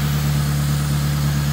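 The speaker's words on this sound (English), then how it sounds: "muffler is cracked, so it is kind of loud, but this is about how we should run." A 1984–1987 Honda Civic engine idles steadily and fairly loudly through a cracked muffler, giving a constant low, even drone with a smooth rhythm and no talk over it.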